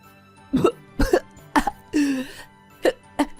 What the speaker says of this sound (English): My mother-in-law continued to cough and screamed.